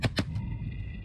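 Two quick, loud shotgun blasts fired in close succession on a goose hunt, followed by a fainter third report as the echoes fade into open-field quiet.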